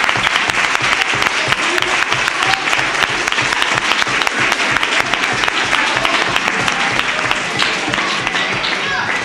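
Dense, loud applause from an audience at a ceremony in Andújar honouring students and PRID for an award fills the room evenly for the whole stretch, with no pauses.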